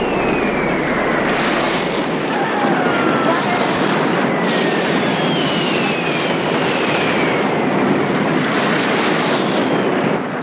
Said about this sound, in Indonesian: tiba-tiba dari langit deru pesawat mampir